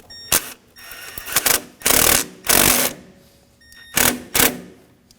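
Hose clamp tightened on a 2009-2014 Ford F-150 3.5L V6 during valve timing solenoid replacement: several sharp bursts of close ratcheting and clicking, separated by short pauses.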